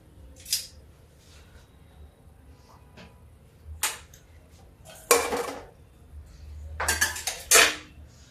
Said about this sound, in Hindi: अब ये देखिए पत्ता गोभी काट लेते हैं।